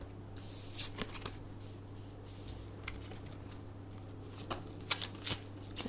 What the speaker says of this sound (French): Je vais vous tirer une carte de l'oracle des amoureux.